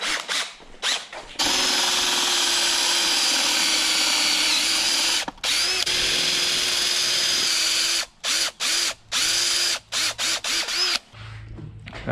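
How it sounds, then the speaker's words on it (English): A power drill whines steadily as an inch-and-a-half Forstner bit cuts into wood, then stops and restarts in several short bursts near the end. "This drill and our Forstner bit. This is an inch and a half Forstner bit."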